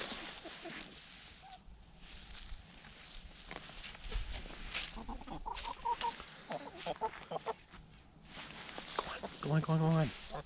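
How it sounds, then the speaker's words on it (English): Several chickens cluck and murmur close by, with scattered footsteps and rustling; a louder squawk rises near the end. "my chickens are just surrounding me right now"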